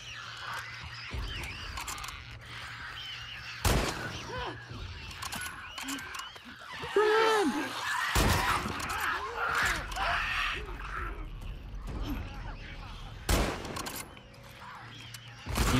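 Gunfire in The Last of Us Part 2, with several separate shots spread across the stretch amid tense game sounds, and a player talking over the action.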